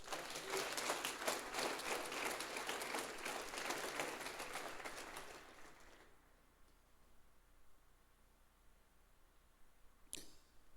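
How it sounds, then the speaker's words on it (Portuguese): Loud applause from a church congregation fills the first half, then fades out, leaving a quiet room with one sharp click near the end. "Aplauda o Senhor."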